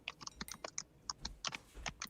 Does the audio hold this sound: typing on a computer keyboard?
yes